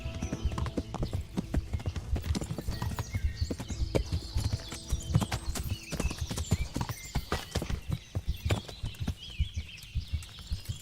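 Horse hooves clip-clop at a steady walking pace in the medieval video game Kingdom Come: Deliverance, loud and close, with a faint whinny and light ambient birdsong behind them.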